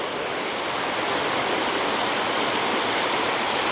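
A running stream flows outdoors as a loud, constant broadband rush of water, steady and unbroken, with no voices over it.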